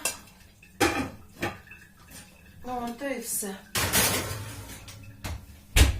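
Dishes and metal pans clatter as a dish goes into the oven, then a heavy oven door bangs shut near the end; a person speaks briefly in Ukrainian in between.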